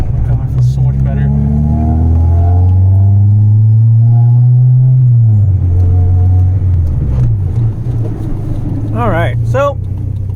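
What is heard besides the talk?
Honda Civic EK engine running loud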